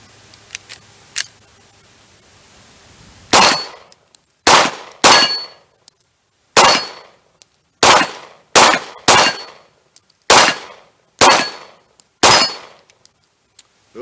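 A modified pistol fires White River small pistol primers, about ten sharp reports spaced roughly a second apart. Each crack is loud and close, and a few faint clicks come before the first shot.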